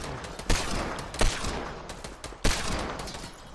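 Gunfire in the video game Fortnite, three loud sharp shots spaced irregularly, each followed by a noisy decaying wash, with no talking.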